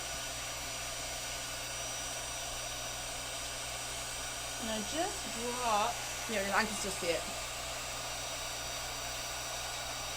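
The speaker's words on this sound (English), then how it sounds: "Where did you get your hand dryer?" A craft heat tool blasts hot air to dry paint on a farmhouse-style pizza board, a loud steady whir with someone talking briefly over it partway through.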